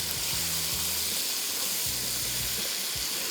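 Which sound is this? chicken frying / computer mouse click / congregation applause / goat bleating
chicken frying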